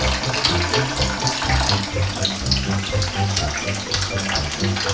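Water runs steadily from a tap into a sink, a continuous close splashing gush with no voices over it.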